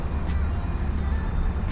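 A Mercedes-AMG GLC 43 idles through its quad exhaust tips, a steady low rumble close by with no talking over it.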